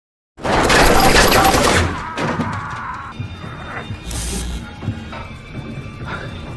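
Gunfire in an action-film shootout with terrorists in London: a loud, dense burst of automatic fire followed by a string of sharper shots, crashes and impacts, with no speech.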